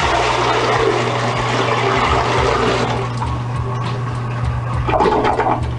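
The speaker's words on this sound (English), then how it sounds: "When you pour water into the bowl, you are doing the same thing as pulling the lever to flush." A toilet flushed by pouring a bucket of water straight into the bowl: loud, close rushing and gurgling water draining for several seconds, steady with a few surges, no talk.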